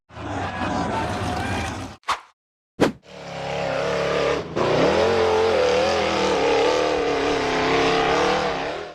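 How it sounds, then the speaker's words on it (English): An off-road buggy with a white frame revs hard climbing a steep rocky dirt slope, its engine roaring loud and close, cutting out briefly twice before surging again in a sustained, straining whine. "The buggy with the white frame accelerated up a steep, rocky dirt slope"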